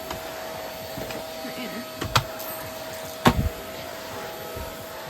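A Numatic NBV190 vacuum cleaner runs steadily on carpet, a quiet constant whir with a faint tonal hum, broken by a few brief knocks and bumps from the head moving across the floor.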